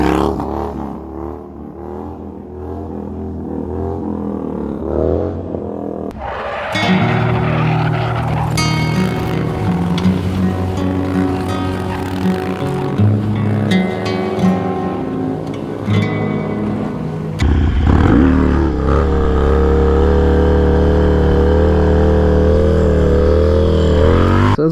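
A Harley motorcycle engine revs and roars through a sit-down wheelie, loud and sustained with rising and falling throttle, close to the rider.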